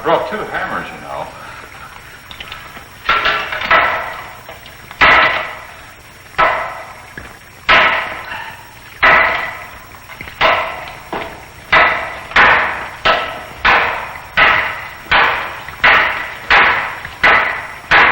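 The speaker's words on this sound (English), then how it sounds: "I brought 2 hammers, you know." Two hammers pound into a wall in search of water behind it, with around fifteen loud, sharp, evenly spaced blows that speed up toward the end, heard close and mostly alone after a few opening strikes.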